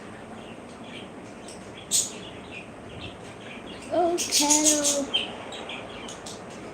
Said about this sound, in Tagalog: Maingay mga ibon ko.